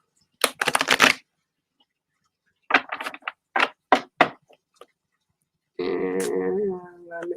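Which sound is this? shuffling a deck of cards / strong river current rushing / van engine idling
shuffling a deck of cards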